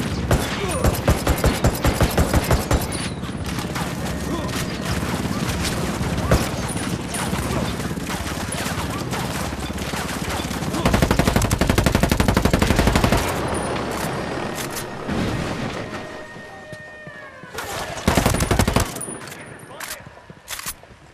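Ghost Recon Wildlands combat brings dense, sustained automatic gunfire, loud and near, with rapid rattling bursts that swell and pause, then sharp volleys near the end, and voices faintly beneath.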